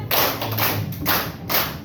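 Four hand claps in an even rhythm, soft and somewhat muffled, spaced about half a second apart.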